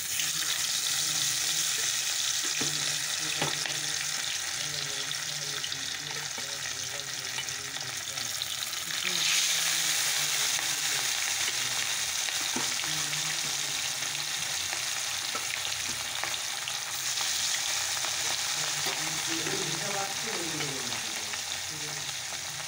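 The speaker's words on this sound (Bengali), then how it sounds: "তো চলো মাছগুলো ভেজে নেই।" Fish rubbed with salt and turmeric fry in hot oil in a wok, giving a loud, constant sizzle and crackle that runs unbroken, with occasional stirring scrapes and no talk.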